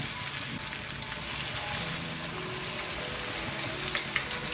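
Fenugreek leaf batter fries in hot oil over a medium flame, giving a steady, close, continuous sizzle with small crackles and no talking.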